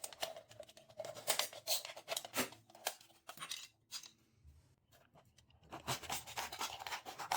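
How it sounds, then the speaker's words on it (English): Scissors cut through the thin aluminium of an empty soda can in a series of close, crisp snipping and crinkling bursts, pausing briefly midway before resuming. "For this, I'm using an empty soda can. I start by cutting off the top cap first."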